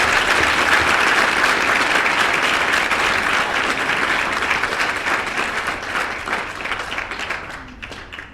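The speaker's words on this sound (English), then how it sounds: "can we give Jess Stenson a massive round of applause?" A roomful of people applauding runner Jess Stenson at a live show on the Gold Coast, dense sustained clapping that holds strong and then thins out and fades over the last couple of seconds.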